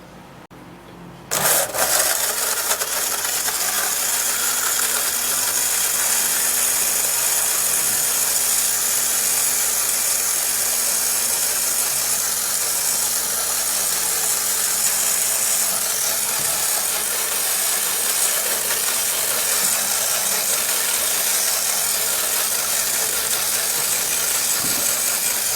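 A blender whirs onion into a purée, switching on abruptly and then running at a steady, loud, unbroken drone for the rest of the stretch, with no talk over it.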